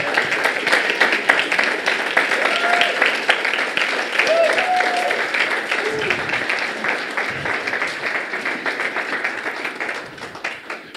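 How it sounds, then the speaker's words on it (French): A church congregation at Église Fondation in Granby applauds steadily for about eleven seconds, a dense, even wash of clapping with a few voices mixed in that fades slightly toward the end. "J'aimerais ça, premièrement, que vous applaudissez Lisa pour tout le travail qu'elle fait pour l'œuvre de Dieu."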